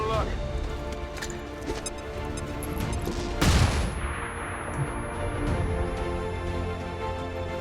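Gunfire in the turn-based tactics game XCOM 2 Long War 2: a single loud shot cracks out midway over a steady bed of game ambience and music, then fades into a softer tail.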